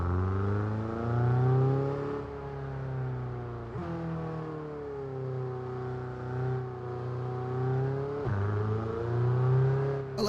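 A Formula 1 car's engine in the racing game F1 2022 rises and falls through repeated upshifts and downshifts, with sharp pitch drops at each gear change and a steady buzzing exhaust tone, close and continuous without talk.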